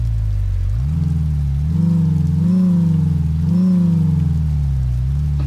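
A Volvo truck engine in American Truck Simulator cranks and settles into a deep, steady diesel idle, with low rumbling harmonics that swell and rev slightly twice, loud and close.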